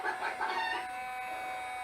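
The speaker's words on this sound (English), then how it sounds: "and chickens." Chickens cluck in a quick burst of several close, bright calls that fade out into quiet within two seconds, part of a farm scene.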